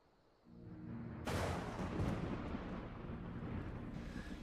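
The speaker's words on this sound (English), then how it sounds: "Nice thunder and lightning" A thunderclap breaks in a Final Fantasy XIV game scene, a loud broadband boom that rolls on as a long rumble after a quieter opening with a low tonal hum.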